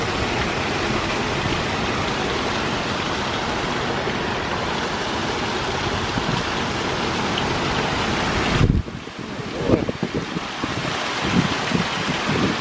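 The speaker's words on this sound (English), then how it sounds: "That wind is still whipping and it's blowing the water off the trees." Strong Hurricane Francine winds roar across Algiers, Louisiana, shaking water off trees. A loud, unbroken rush buffets the microphone and briefly drops away near the end before gusting back.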